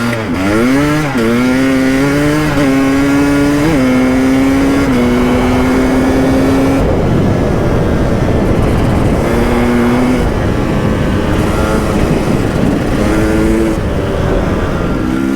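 A KTM 300 EXC two-stroke dirt bike on its standard exhaust revs loudly and close, the pitch sweeping up and down in repeated blips before settling into a rough, rattling idle with further bursts of throttle.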